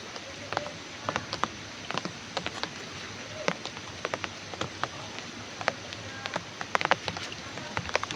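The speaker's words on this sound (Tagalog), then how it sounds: "na malakas pa yung ulan mga lods" Rain falls steadily, with dense patter and many sharp drops striking nearby surfaces in a continuous wash; no one talks.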